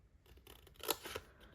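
Scissors cut through paper for a stamped craft project: a couple of crisp, close snips in quick succession against a quiet background.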